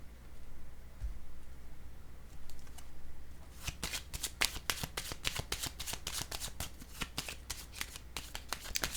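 Playing cards riffle-shuffled close by, a rapid burst of crisp flicking after a few quiet seconds of soft handling, fairly faint overall.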